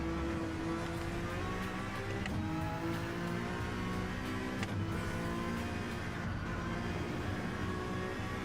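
A GT3 race car in Gran Turismo 7 drones through a long run of engine revs, with brief rising blips and drops as it downshifts, held loud and continuous throughout.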